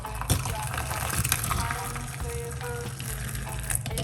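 Parsley lemon tea is poured off into a cup, a steady liquid gush running the length of the pour at low volume, with a little talk in the background.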